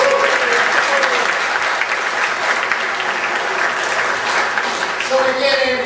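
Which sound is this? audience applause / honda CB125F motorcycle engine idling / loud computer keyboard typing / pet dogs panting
audience applause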